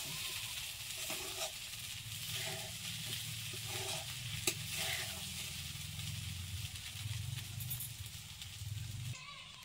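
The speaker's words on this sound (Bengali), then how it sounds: "জিরেটা দিয়ে নাড়াচাড়া করে মিশিয়ে নিচ্ছি।" Cumin is stirred in a frying pan for flattened rice upma: a faint, steady sizzle runs throughout, with soft scraping stirs and one sharp clink, heard close by at low level.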